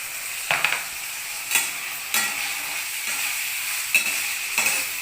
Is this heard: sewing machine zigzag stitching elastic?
no